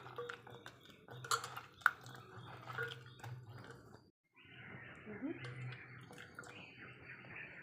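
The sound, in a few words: washing cauliflower florets in water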